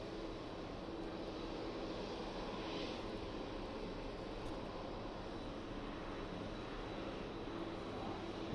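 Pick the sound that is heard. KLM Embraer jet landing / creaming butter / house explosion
KLM Embraer jet landing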